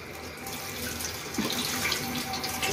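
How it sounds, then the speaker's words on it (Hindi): Tap water runs steadily into a kitchen sink as chopped vegetables are rinsed, a close, continuous splashing flow with small shifts as the water hits them. "मैंने सब्जी काट ली है और ये मैं अब इसको धो के रख रही हूँ।"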